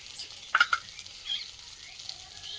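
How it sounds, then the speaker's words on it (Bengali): Whole boiled eggs frying in hot oil, a soft steady sizzle punctuated by a few quick crackling pops early on. "ভালো করে ভেজে নেবো গোটা অবস্থায়।"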